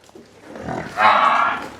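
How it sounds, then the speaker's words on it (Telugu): A Murrah buffalo bellows once in a loud, rough, drawn-out moo at a farm sale of newly arrived buffaloes, rising out of quieter surrounding noise and faint voices. "మంచి క్వాలిటీ గల బఫెలోస్ అయితే ఇక్కడ కనబడుతున్నాయి"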